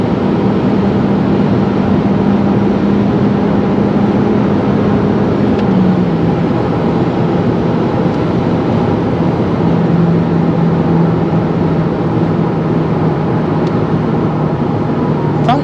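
Steady, loud cabin rumble and road roar inside an Opel Insignia 1.6 Turbo 180 HP Cosmo with Flexride chassis cruising at high speed on a motorway, a continuous drone with no voices.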